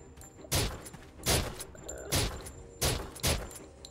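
Gunshots ring out in a VR zombie survival game, five loud, punchy shots at uneven intervals of roughly a second, each with a short decaying tail.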